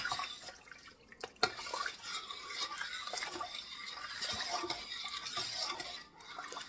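Roughly two quarts of liquid poured into a large soup pot of boiled meat, a steady splashing pour with clinks of the pot, close and moderately loud, no talking.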